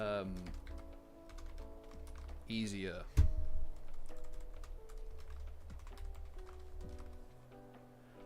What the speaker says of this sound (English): it's wireless, and I needed a wireless keyboard. Also, it's not as clickety clack